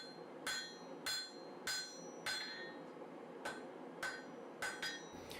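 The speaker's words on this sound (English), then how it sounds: "So I began by forging this stub out to the same width as this small piece of blue steel." Hammer forging a Damascus steel stub, sharp ringing blows landing close by in an uneven rhythm, nine or so strikes with clear metallic ring over a low background hiss.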